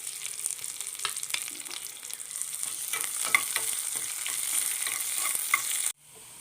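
Cut dried red chillies frying in a tempering of hot oil for a lady's finger tamarind curry, a steady crackling sizzle with light stirring taps, heard close without any talking until it cuts off sharply at the end.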